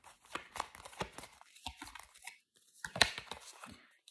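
Tarot cards shuffled by hand during a reading, giving a run of soft papery riffles and crisp flicks, quiet and close with a sharper snap near the end.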